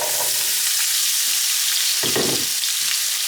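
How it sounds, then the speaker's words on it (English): Potatoes sizzle loudly in hot bacon grease in a vintage slow cooker, a dense, steady hiss with a few soft stirring scrapes and no talking. "Now we're going to add our potatoes"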